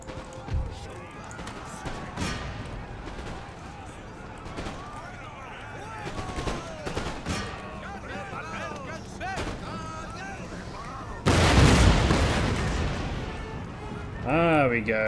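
Howitzer artillery booms and scattered gunfire roll across a battle in Empire Total War, with repeated thuds and shots under ongoing talk and a heavy explosive surge near the end.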